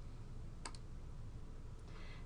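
A computer mouse clicks on the OK button in an Excel 2013 dialog, a quick close double click followed by a fainter click, over a steady quiet room hum with no talk.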